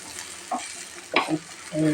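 Garlic and green chili paste frying in a pan, a soft steady sizzle broken by a few brief stirring scrapes, close and fairly quiet with no talk.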